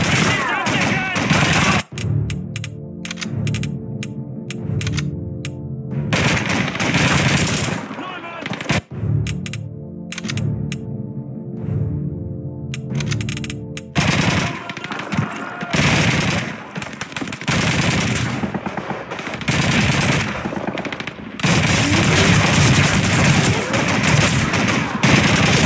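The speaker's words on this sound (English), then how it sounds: "machine gun MG42!" An MG42 machine gun fires in the 2005 PC game Call of Duty 2 in long, loud, rapid bursts broken by short pauses. Other gunfire and battle noise fill the gaps, and a voice shouts briefly.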